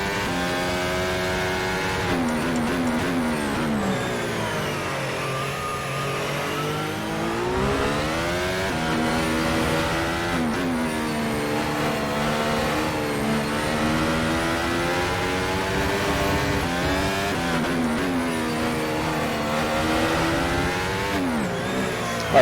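A Formula car in the rFactor 2 racing game accelerates with a sustained, loud engine note that rises and falls in pitch through repeated gear changes, heard alone without talk.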